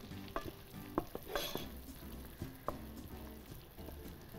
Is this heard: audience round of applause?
no